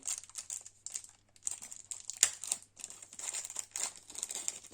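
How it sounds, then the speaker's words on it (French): Crinkly plastic wrapping on a gift parcel holding a dreamcatcher is handled and torn open, with repeated bursts of rustling and crackling close by, one sharper tearing snap midway, and no talking. "Est-ce que je vais réussir à ouvrir le paquet?"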